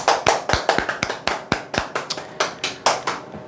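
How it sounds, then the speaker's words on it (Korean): Sharp hand claps from an audience at a lecture on insurance and real-estate telemarketing sales, a loose series of about a dozen crisp, close claps in an uneven rhythm with no talking. "박수 한번 치시죠"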